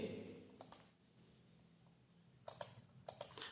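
Mouse clicks during online exam form filling, quiet and close: a pair of sharp clicks near the start, then two quick double-click bursts later, over faint room hiss with no talk.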